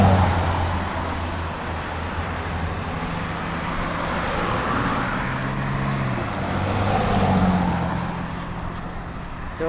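Road traffic from a bike commute: a steady wash of car engines and tyre noise, with one vehicle's motor swelling nearer and fading, a BMW among the cars moving through the lane ahead.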